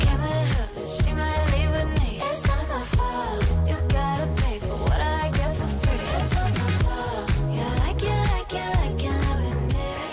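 Upbeat pop hit from the Mean Girls remake film, with a punchy beat, bass and vocals playing continuously at full, steady volume.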